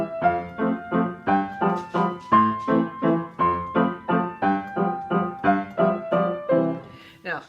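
Two players at one piano perform a duet over a simple scale melody, sounding as a steady run of evenly spaced notes and chords, close and clear, with no talking.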